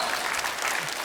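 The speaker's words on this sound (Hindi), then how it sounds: "आर्को के लिए जोरदार तालियां हो जाएं." Loud, dense studio audience applause greeting a guest on a comedy talk show, a continuous roar of clapping filling the whole brief moment with no pause.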